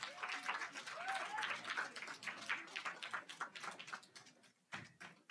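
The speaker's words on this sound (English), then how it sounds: "So please give him a round of applause." Scattered applause from a modest audience at an academic case study event, clapping that thins out and fades toward the end, fairly faint, with a voice briefly heard.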